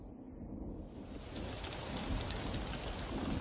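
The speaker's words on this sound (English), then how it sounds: "The monsoon rain feeds the tropical flora and fauna." Steady monsoon rain pours down, a soft hiss of drops that swells gradually louder, with no voices.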